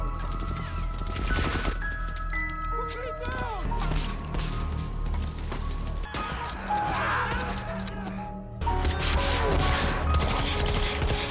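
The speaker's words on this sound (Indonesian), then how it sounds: "Terjadilah baku tembak jarak dekat." Close-range gunfire in a war battle between American and Japanese soldiers: dense bursts of shots and mechanical clatter crowd the scene, loud and near, layered with other battle noise and voices.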